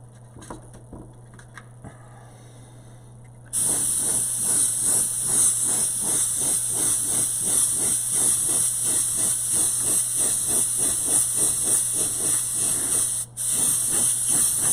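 Primer spray paint from an aerosol can being sprayed onto a bottle lid, a loud continuous close hiss that starts after a few quiet seconds, with a brief break near the end.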